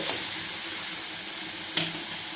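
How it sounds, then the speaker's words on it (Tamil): Chopped tomatoes sauté in a pan with a steady hissing sizzle close by, broken by a couple of brief stirring scrapes. "தக்காளி ரெண்டு கட் பண்ணி வச்சுருக்கேன் அதை தக்காளி நல்லா வதக்கி விட்டுட்டு"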